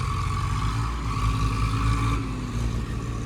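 An Eicher 557 tractor stuck in an old pit, its engine straining in a loud, steady, close drone with a rough low rumble and slight swells in pitch.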